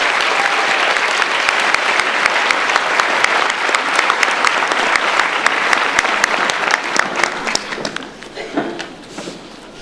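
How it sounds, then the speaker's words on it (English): An audience at a high school awards ceremony applauds a school choir, a dense, loud wash of clapping with sharp individual claps that tapers off toward the end as a voice begins. "Let's give them another round of applause"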